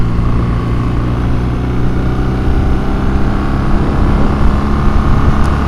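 A 2022 BMW R nineT Urban GS motorcycle ridden at steady cruising speed, its engine drone a constant close rumble mixed with wind noise, no voices.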